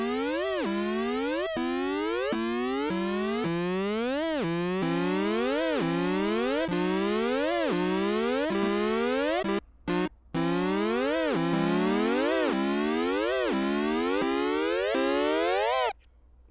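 Arturia MicroFreak synthesizer with its cycling envelope modulating a parameter, producing a steady loop of rising, sweeping bright tones that repeat in a regular rhythm, loud and alone, with two very brief dropouts midway.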